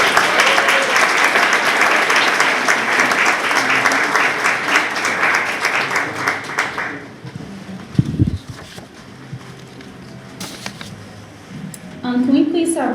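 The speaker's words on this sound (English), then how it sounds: "Can we please have one more round of applause for all of our young professionals?" An audience at an awards event honoring young professionals breaks into loud, dense applause for about seven seconds before it drops away to quieter room noise, scattered handling sounds and a brief murmur of voices.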